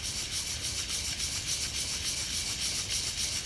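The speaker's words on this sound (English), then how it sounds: "take your brake on some sandpaper and just rub it in a circular motion, just like this." A brake pad rubbed in circles on sandpaper gives a steady, close, gritty scraping that swells and fades in a quick, even rhythm, fairly quiet, with no voices.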